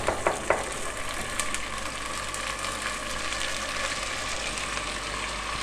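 Cumin seeds sizzle steadily in hot oil in a pan while moong dal is cooked, a dense, even crackle near the mic, with a few sharp clicks at the start.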